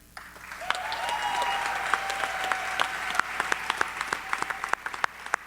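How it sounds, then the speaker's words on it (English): Audience applause at a Young Storytellers show, a broad wash of clapping that swells, then breaks into sharper individual claps as it thins toward the end. "Let's give Bill one more big round of applause"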